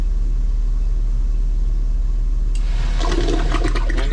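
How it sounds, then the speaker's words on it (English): A Saniflo Sanimarin SN4 macerator toilet, fitted with a replacement pump assembly, kicks into a strong flush after a steady low hum, the rushing water and pump surge rising suddenly and loudly partway through, with no talk. "And it's flushing, and it's flushing strong."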